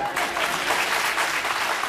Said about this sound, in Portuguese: vamos pedir que guardem as palmas